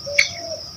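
A cartoon bird gives a single short, bright chirp near the start over a steady high tone and soft low background, with no talking.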